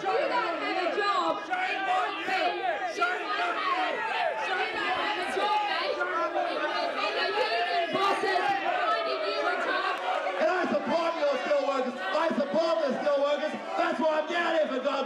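A dense crowd at a political rally in Wollongong over a carbon tax, a continuous loud wash of shouting and overlapping voices, cheering and jeering mixed together with no pauses.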